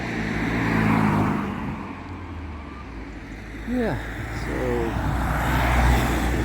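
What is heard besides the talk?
road traffic, cars passing in Stenum, Germany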